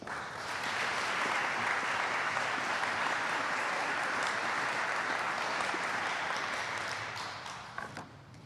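An audience at a Veterans Day celebration applauds warmly as a speaker comes to the podium, steady close clapping for about seven seconds before tapering off.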